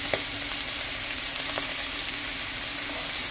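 Beans and carrots hit a hot pan already cooking liver for pancit canton, giving a loud, steady sizzle and frying hiss with a few faint stirring clinks.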